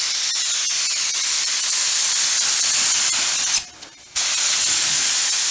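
Spray gun laying a heavier clear coat on a car, a loud close hiss of atomized spray that runs steadily, cuts out briefly for about half a second, then resumes.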